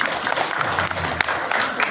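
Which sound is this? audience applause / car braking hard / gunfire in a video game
audience applause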